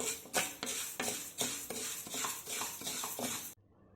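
Moong dal is dry-roasted and stirred in a pan, with rhythmic scraping strokes and the rustle of dry lentils repeating about twice a second, close and fairly loud, before stopping abruptly.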